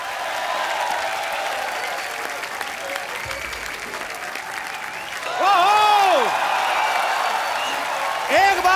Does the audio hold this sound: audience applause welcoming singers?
yes